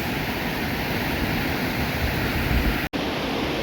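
The Cascata Grande, a tall man-made waterfall in the gardens of Villa d'Este at Tivoli, pours as a loud, steady broadband roar, with no voices over it.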